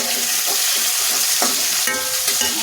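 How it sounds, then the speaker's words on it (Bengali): Minced garlic dropped into a hot frying pan for a beef and yardlong bean stir-fry, giving a loud, close sizzle and crackle with stirring scrapes, the hiss swelling sharply as more goes in toward the end. "এখানে একটি আস্তে রসুন দিয়ে দিলাম।"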